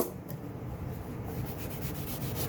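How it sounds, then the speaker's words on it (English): Excess glue is rubbed off vinyl door trim from a 2011-2017 Honda Odyssey, giving a close, steady scuffing friction with soft repeated strokes and no talking. "A little bit of glue on there, but that's okay. Just rub it off."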